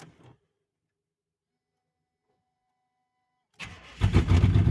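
After a brief click and a few seconds of near silence, a cold car engine cranks and catches, settling into a loud, steady idle close by.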